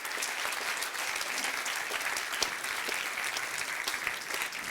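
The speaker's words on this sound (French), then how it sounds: "Est-ce qu'on pourrait vraiment applaudir bien fort tout le groupe de louanges, les choristes, les techniciens, son, lumière, la vidéo" Sustained, loud audience applause for a worship band, choir and technical crew at a Christmas church gathering, a dense, steady clapping that fills the whole stretch with no voices over it.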